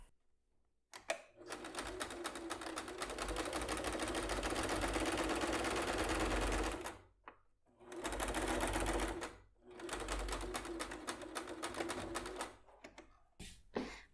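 A sewing machine stitching a seam on a zippered bag, running in three long steady bursts of rapid mechanical whirring and needle clatter, separated by short pauses.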